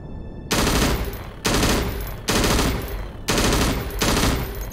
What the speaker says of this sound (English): Try shooting at the target in front of you.